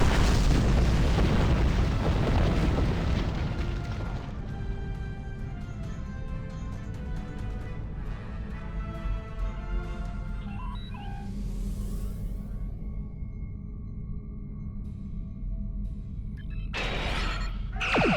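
Starship weapons fire and explosions in the space combat game Star Trek Online: a loud opening boom and roar that decays into a long rumbling tail, with a sharp burst returning near the end.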